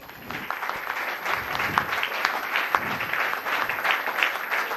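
An audience claps steadily for women called up on stage at a Women's Day event, a dense, continuous patter of many hands filling the room throughout, with a faint voice underneath.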